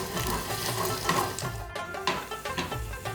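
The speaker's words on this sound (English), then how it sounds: "We have to saute a little bit." Curry leaves, dry red chili and sliced fresh garlic saute in a pan for a tadka, a soft crackling sizzle broken by a few stirring scrapes.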